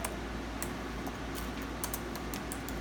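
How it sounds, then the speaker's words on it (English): Slow, uneven clicks of one-finger typing on a computer keyboard, sparse separate taps over a steady background hiss. "I'm typing with one finger"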